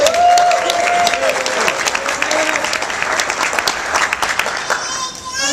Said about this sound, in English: A round of applause for Lindsay Lineweber.